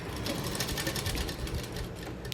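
A sewing machine runs steadily, double-stitching a folded fabric strip for a scrunchie, its fast needle chatter close and continuous with no talking.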